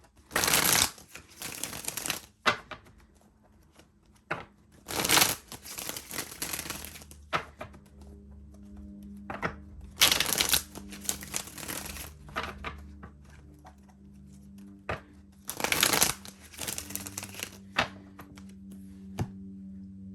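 A tarot card deck is shuffled by hand in repeated bursts, crisp riffling flutters separated by brief pauses and soft taps as the cards are squared, close and fairly quiet.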